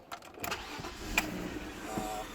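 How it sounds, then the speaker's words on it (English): A BMW car engine cranks and catches, a brief start burst followed by a steady mid-pitched running note, fairly close and moderately loud with no talking. "I love the sound of this car"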